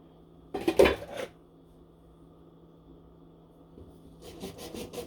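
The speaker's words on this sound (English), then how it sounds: "You can hear me sawing away at my dowel." A hand saw cuts through a wooden cake dowel nearby: a loud burst of scraping strokes, a quiet pause, then a softer run of rhythmic back-and-forth rasps near the end.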